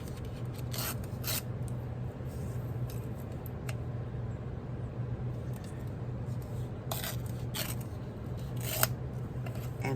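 Washi paper being torn by hand at a craft table, with a few short, crisp rips breaking through a steady low background hum, close by and fairly quiet.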